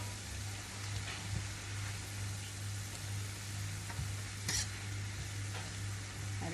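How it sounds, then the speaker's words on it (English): Pak choi and asparagus beans stir-fry in a pot with a soft steady sizzle, broken by scattered scrapes and taps of the utensil as the vegetables are tossed, faint and close with no talking. "I just continue to stir fry and stir fry"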